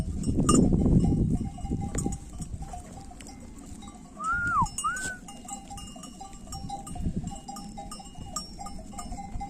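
A flock of goats settles in the middle of a hot pasture near stone houses, with a low rustle of animals and a brief rising bleat-like call, a faint clank drifting in among them.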